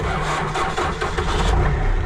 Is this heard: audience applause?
no